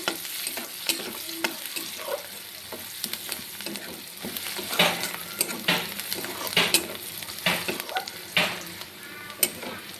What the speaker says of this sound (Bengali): আর দিয়ে দেবো পেঁয়াজ কুচি। এবার সব কিছু পিছিয়ে ভালো করে ভেজে নেব।